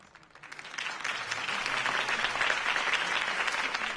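Crowd applause for Harvey Dent's campaign speech in a Batman video game, swelling from a quiet start into steady, dense clapping that holds loud to the end.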